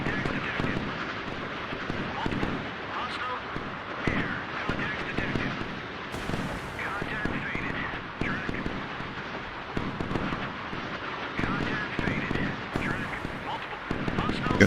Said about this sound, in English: Oh boy, that was a big explosion.